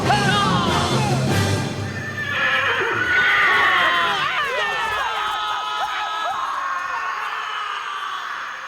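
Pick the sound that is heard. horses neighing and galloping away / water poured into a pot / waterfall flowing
horses neighing and galloping away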